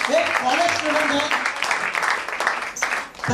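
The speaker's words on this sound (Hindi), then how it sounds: "मास्टर रोहन राजा के लिए जोरदार ताली होना चाहिए" Audience applause for a young performer at a stage show, a dense wash of clapping that fills the clip with some voices mixed in, fading slightly near the end.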